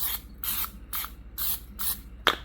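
Six short hissing bursts of aerosol cooking spray into a 9x13 pan, evenly spaced, each about a quarter second, close and fairly loud.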